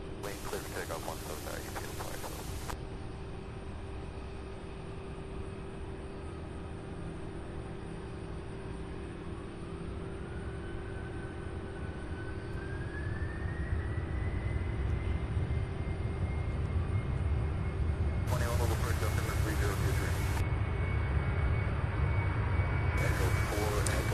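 Aircraft at Louisville International Airport, a 26-year-old airliner, building from a steady distant rumble into a louder, fuller roar with a rising whine partway through, continuous throughout.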